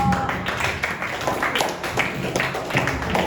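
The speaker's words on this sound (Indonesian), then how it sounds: "tepuk tangan untuk kelompok." A classroom of students applauds a group after its presentation. Brief bursts of scattered clapping fill the room, with a few louder claps standing out over a soft background murmur.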